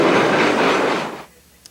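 A train rumbles past loud and close, a broad steady roar that fades away over about a second, leaving near quiet with one small tick at the end.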